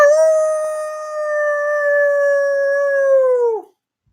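A man gives a long, loud wolf-like howl imitating a wolf on a live stream, one sustained steady tone that bends down and cuts off sharply, followed by silence.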